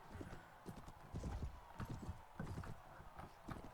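Horse hooves clip-clop in a steady trotting rhythm in a video game, quiet and continuous with a faint whinny-like tone mixed in.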